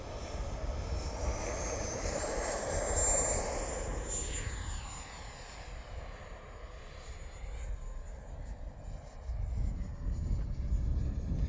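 XFly Alpha 80mm 12-blade EDF jet RC plane flying past and coming in to land: a high whining ducted-fan roar that rises as it nears, then sweeps down in pitch and fades, before the fan swells again near the end.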